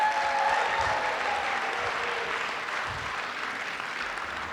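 A crowd at a recovery outreach talk claps in steady applause, fairly close and even throughout, easing slightly toward the end, with no speech over it.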